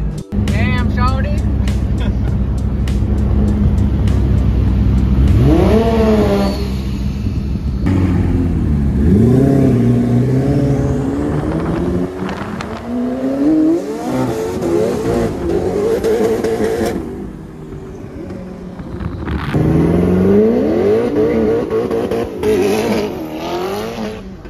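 A Koenigsegg Agera supercar revs hard while losing traction in a drag race against a 900 hp McLaren, engine roaring and surging in repeated climbing bursts with tire noise, loud and close, with voices talking over it.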